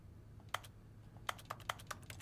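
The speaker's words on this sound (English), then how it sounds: "Man, if I hit A, I just hear a typewriter." Typewriter-style keystrokes from The Stanley Parable video game, a handful of sharp clacks in an irregular typing rhythm, fairly quiet and close over a low steady hum, with no talking.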